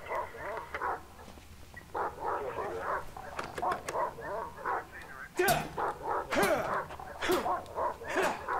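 A dog in the video game Silent Hill Downpour whimpers and yips in short repeated bursts. The sounds come close and clear with a steady room hum underneath. Louder barks come near the end.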